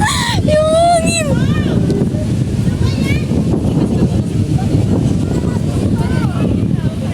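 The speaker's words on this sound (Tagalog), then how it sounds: "Yung hangin!" Wind roars steadily across the microphone on an amusement park ride at Enchanted Kingdom, a loud, constant rush throughout, while riders shout and shriek close by.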